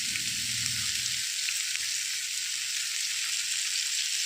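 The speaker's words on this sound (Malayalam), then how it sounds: "ഇനി മീഡിയം ഫ്ലെയിമിലിട്ട് ഒന്ന് ഫ്രൈ ചെയ്തെടുക്കാം" Whole bitter gourd fries in hot oil over a medium flame, giving a steady, close sizzling hiss throughout, with a brief low rumble of movement in the pan at the start.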